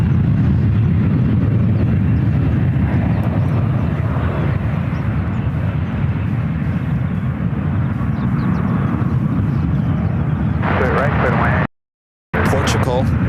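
Steady loud engine rumble of a United Boeing 777-200ER airliner taxiing at San Francisco International Airport, continuous low roar with a brief dropout near the end and a voice talking over it.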